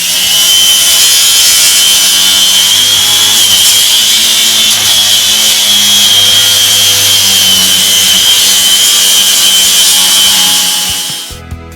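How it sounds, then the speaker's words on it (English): A saw cuts through a leaf spring bolt on a first-generation Toyota Tacoma, a loud, steady, close grinding rasp that runs without a break for about twelve seconds before stopping abruptly. "Very tickled that we've cut a bolt"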